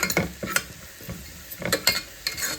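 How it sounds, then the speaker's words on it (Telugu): Spices fry in a pan for mutton paya soup, with a soft sizzle under a few scraping stirs of a spoon, close and quiet with no talk. "ఇలా వేసుకొని ఇవి బాగా కొంచెం పచ్చి వాసన పోయే వరకు ఫ్రై అవ్వాలి."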